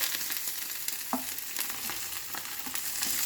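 Mustard-coated paturi fish wrapped in banana leaf sizzles in a pan over a medium flame, a steady close frying hiss with a few faint clicks and pops.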